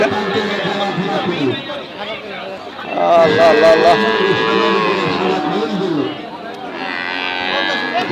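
Cattle at the Hazratpur cow market low in long, loud moos, one after another and close by, over the murmur of a chattering crowd.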